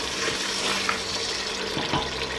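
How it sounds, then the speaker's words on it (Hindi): Water pours steadily into a cooking pot of mutton with arvi (taro root), making a continuous close splashing rush with no talk. "तो अब हम जितना हम पानी डालना चाहें इसमें डाल देंगे"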